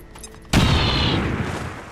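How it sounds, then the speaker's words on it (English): A grenade explodes in the XCOM 2 video game with one sudden, loud, close blast that cuts in abruptly after a quiet moment and then rumbles as it slowly decays. "Here, let's just lob a grenade on him."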